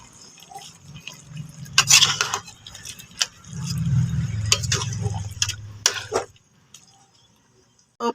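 Cooked Bicol-style laing with coconut milk being stirred in a pot: scraping, wet sloshing swirls and light clinks of the utensil, close by, coming in a few bursts before fading to quiet.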